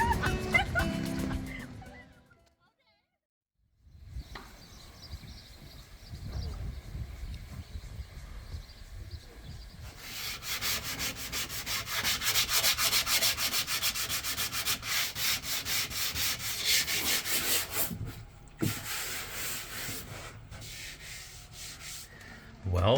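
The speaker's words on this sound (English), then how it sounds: "we have been fairing and sanding" Sanding and fairing on a boat hull, with long stretches of rough rhythmic abrasive rubbing, steady and close, broken by short pauses and a near-silent gap early on.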